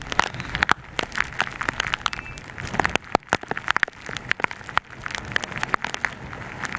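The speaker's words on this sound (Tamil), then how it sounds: "இங்க பலத்த காற்றுடன் கூடிய கனமழை பெய்து வருகிறது" Heavy rain driven by strong wind at a coastal fishing village near Mamallapuram during a storm, a dense steady hiss of drops with sharp cracks and gusty buffeting close to the microphone, no voices.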